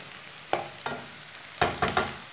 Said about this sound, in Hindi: प्याज को 2-3 मिनट के लिए भून लेंगे।